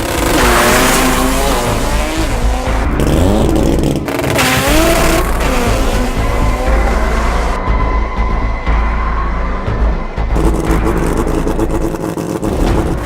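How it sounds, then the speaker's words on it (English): A high-revving 20B rotary engine in a naturally aspirated Datsun race car screams loudly at full throttle during a drag pass, pitch climbing and dropping through gear changes, with a brief drop-off before another run. "the high RPM sound of the 20B all-motor Datsun"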